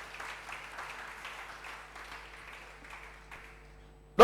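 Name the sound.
congregation applauding for the Lord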